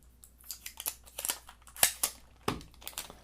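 Tape peels and crinkles off the packaging of a Rubik's brand cube in a quick series of sharp rips and crackles, close and fairly faint.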